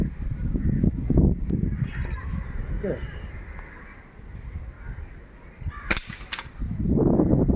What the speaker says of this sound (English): Very powerful air rifle.